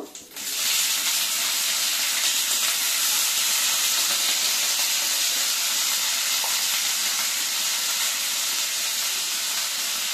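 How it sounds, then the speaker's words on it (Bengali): Bitter gourd frying in hot oil with salt and turmeric, a loud, steady, dense sizzle and hiss that holds evenly from start to finish with no voices. "উচ্ছেটাকে আমি নুন হলুদ দিয়ে ভেজে নেব।"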